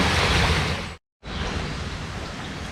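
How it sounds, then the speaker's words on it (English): Loud, continuous rush of churning water overflowing a canal lock bypass at Trentham Lock, broad and close, briefly cut to silence before it resumes at full strength. "allowing water to bypass the lock that is not required or that is overflowing the pan"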